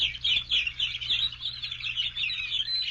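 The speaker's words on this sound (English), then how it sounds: "Those birds." Recorded birds chirp steadily in quick, repeated high twitters, played back on a 1960s radio broadcast about Lake Michigan, moderately loud with a faint low hum underneath and no talking.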